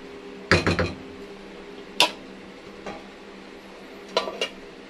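A metal lid goes onto a cooking pot of gising gising with a rattling clatter, followed by a couple of lighter clanks and a final jangling settle, close and distinct against quiet background.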